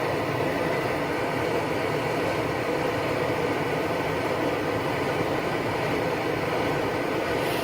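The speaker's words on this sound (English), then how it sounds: "It's starting to boil now" An MSR XGK EX camping stove fitted with a damper roars loud and unbroken beneath a pot of water coming to the boil, a constant close hiss with no speech.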